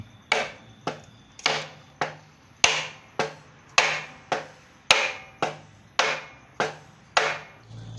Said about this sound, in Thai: แล้วใช้ค้อนตอกเข้า เบาๆนะครับ ไม่ต้องตอกแรง